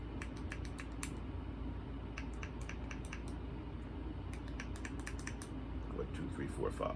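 A dab vaporizer pen's button is pressed in quick bursts of small, quiet clicks, several in a row, with a soft voice murmuring faintly nearby.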